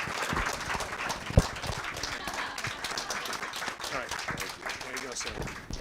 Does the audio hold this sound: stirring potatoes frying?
no